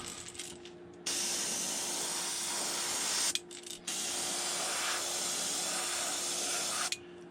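An airbrush sprays pearl white paint onto a shad fishing lure, a steady close hiss running for several seconds that breaks off briefly and resumes, with faint clicks at the stops and no talk.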